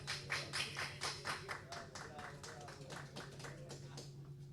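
Visiting authorities clap in a Peruvian congressional commission session, a faint, fairly sparse run of hand claps over a steady electrical hum, with a soft voice underneath.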